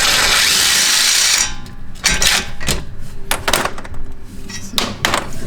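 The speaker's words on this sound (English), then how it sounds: "I'm gonna go ahead and use the impact and get the rest off" An impact wrench runs on a brake caliper bolt of a Ford Fusion, starting with a loud, sustained rattling burst up close. A string of sharp, uneven metallic clicks and knocks follows, with no talking.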